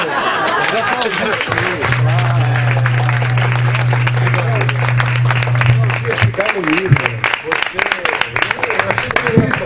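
An audience claps steadily at a book launch at Quintal Amendola, a dense, continuous patter of hands mixed with chatter, laughter and a voice speaking over it.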